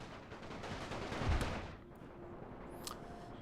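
Troops fire their guns in a World War One battle in the Napoleon Total War video game, with dense crackling volleys blurring into a continuous rumble that swells briefly and then settles.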